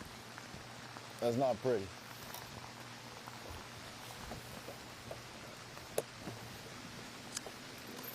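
Steady rain patters and ticks onto an outdoor camera at a lakeside bass fishing tournament on Lake Tenkiller. Someone speaks briefly near the start over the constant wash.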